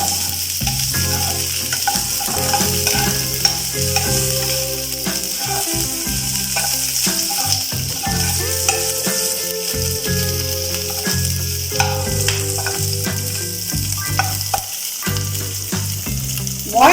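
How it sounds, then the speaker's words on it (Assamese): Steady, dense sizzling of onions frying in a pan, with clicks and scrapes from stirring throughout; no one speaks. "আৰু পিঁয়াজ দি দিছোঁ। এইখিনি ভালদৰে অলপ সময় ভাজিব লাগিব"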